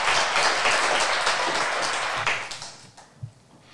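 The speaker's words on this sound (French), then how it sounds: "Nous les applaudissons également très fort." School students in a classroom clap loudly together for their classmates, a thick burst of applause that holds for about two seconds and then thins quickly into scattered last claps and small knocks.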